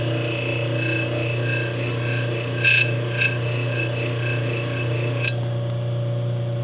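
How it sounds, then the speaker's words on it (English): Baldor bench buffer fitted with a Scotch-Brite wheel deburring a machined metal part, a steady motor hum with a grinding, rasping rub and a few brief louder scrapes, close and continuous, with no talking. "Let's try the Scotch-Brite wheel."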